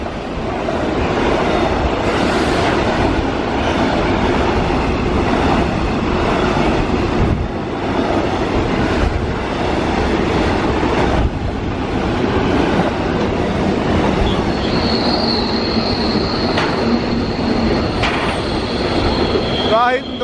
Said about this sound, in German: Da hinten dran fährt der Gegenzug.